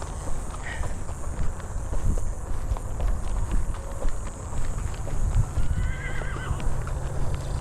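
A restless horse neighs and stamps in an agitated fit, with hoof clops and shuffling steps over a busy outdoor background and a shrill whinny rising near the end.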